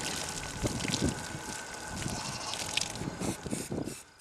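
Steady spraying and splashing water from a hose rinsing soap off a dairy heifer, with irregular splatters and some wind buffeting the microphone, no voices.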